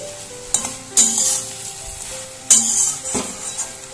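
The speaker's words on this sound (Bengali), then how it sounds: "আবারও ভালোভাবে একবার কষিয়ে নেব" Ground paste of ginger, cumin, coriander and green chilli sizzles in a pan while being stirred, with a steady frying hiss broken by a few sharper scrapes and clinks of the spoon, close and alone.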